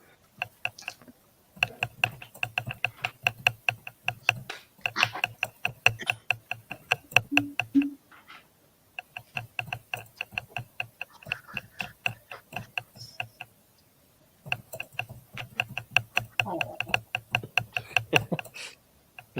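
Rapid keyboard typing with a hard, chopping clatter like vegetables being cut on a board, fast bursts of clicks broken by short pauses, close and fairly loud.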